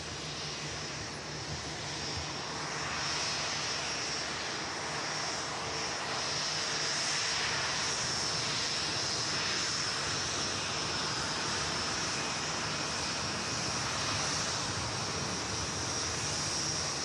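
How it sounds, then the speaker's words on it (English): Boeing 787 Dreamliner jet engines at Manchester Airport, a fairly quiet, continuous distant roar with a faint high whine running through it, steady throughout with no talking. "Another Dreamliner."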